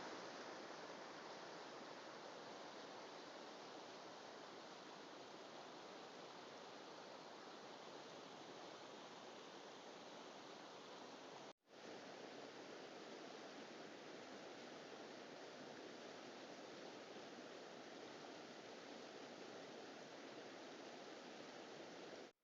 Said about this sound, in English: You can just hear the river bubbling its way past.